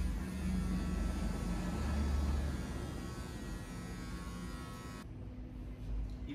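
Electric hair clipper buzzing steadily up close while trimming a man's beard near the chin, a continuous whirring hum that cuts off abruptly near the end, with no talking.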